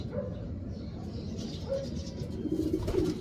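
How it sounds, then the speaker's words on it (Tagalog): Racing pigeons at a loft in Cavite cooing softly during feeding, low rolling coos repeating close by over a murmur of background noise, with a dog barking faintly now and then. "papakainin na po natin yung mga ibon natin"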